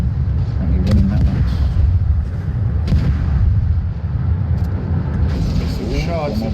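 Gunfire during a competitive video game match, muffled shots and booms scattered through continuous game noise, with commentators talking over it throughout.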